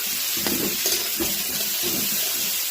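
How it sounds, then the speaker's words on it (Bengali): Vegetables frying in a pan with fenugreek and radhuni seeds give a steady, close sizzle with a few louder bursts of crackle, with no talking over it. "এখন দিয়ে দিচ্ছি সবজি দিয়ে ভালো করে ভেজে নিচ্ছি।"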